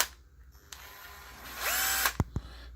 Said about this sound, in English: This is impact drill.